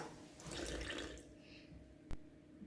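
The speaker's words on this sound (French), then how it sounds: "Nous allons rajouter à la farine T110 100 g d'eau" Water is poured into T110 flour while mixing a homemade sourdough starter, a soft steady trickle for about a second that then fades, followed by a single small clink near the end.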